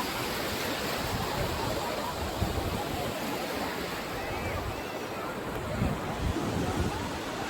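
Steady roar of sea waves washing onto a beach at Mangaluru, a broad continuous rush with wind noise buffeting the microphone.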